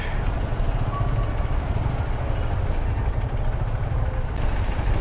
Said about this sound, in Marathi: मजबूत ट्रॅफिक आहे, मजबूत.